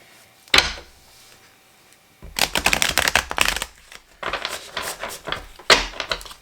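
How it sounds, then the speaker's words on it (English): Tarot deck being shuffled by hand, one quick riffle followed after a pause by several bursts of rapid papery flicking and snapping, close and crisp. "I'm going to do a little shuffle on camera for you guys"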